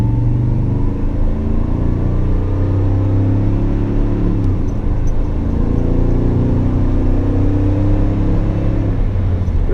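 A supercharged Toyota Tundra pickup accelerates up to highway speed, its engine drone rising and shifting through gears, loud and steady from inside the cab over road noise for about ten seconds.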